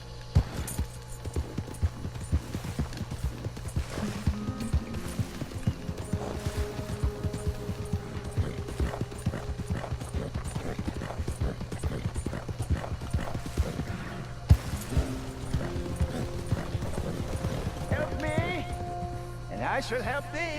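Horse hooves clip-clop steadily in Red Dead Redemption 2, a continuous rhythmic trot running throughout under game music and speech.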